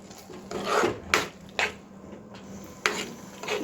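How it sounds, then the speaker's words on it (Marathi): Peas stirred and sautéed in a pan on medium heat for a Malvani mushroom curry, with several distinct scraping and clattering strokes of a spatula against the pan over a low background hiss. "वाटाणे मी टाकून घेतले त्यामध्ये आता एकदा असं परतून घेते"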